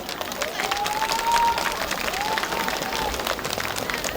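Audience at a Korean folk song and traditional performance event applauds with sustained clapping, mixed with crowd noise and a few rising cheers.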